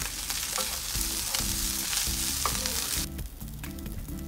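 Steady loud sizzling of rice and egg stir-frying in a hot pan, with rhythmic scraping and stirring strokes throughout.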